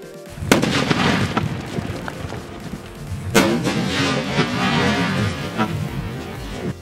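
A loud firecracker blast bursts early inside a Coca-Cola-filled watermelon, followed by a second sharp bang and rumbling debris and outdoor noise afterward.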